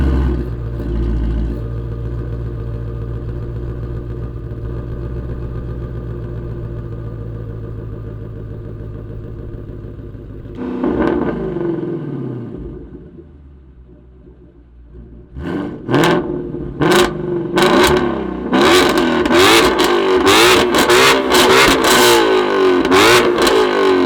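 A Ford Mustang Shelby GT350R with a flat-plane-crank V8 idles loudly, then settles low. It then bursts into a series of sharp, high-pitched revs that build to a sustained scream up close.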